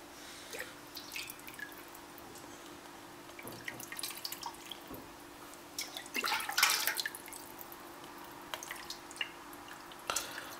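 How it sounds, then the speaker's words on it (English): Beef bone broth drips steadily through a boiled cloth filter, with irregular small drops and trickles close by at low volume and no talking. "we filter the liquid through it, so we remove all the sediments"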